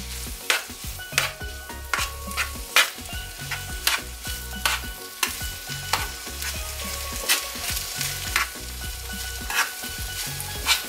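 Cooked rice being stir-fried with chicken in a hot pan for Trinidad-style Chinese fried rice, with steady sizzling and repeated scraping and clanking of a utensil against the pan, no talking.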